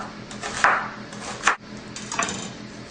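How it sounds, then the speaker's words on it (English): A knife slices a large onion into long strips on a board, giving a few distinct cuts with crisp, close thuds and scraping strokes, spaced irregularly, with no voices. "So here I'm going to chop one large onion, and you want to cut this into long slices."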